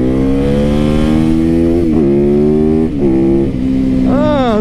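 A Harley-Davidson motorcycle with a Porsche-influenced engine revs loudly and close by, holding a steady high idle with several brief dips and a sharp rising rev at the end.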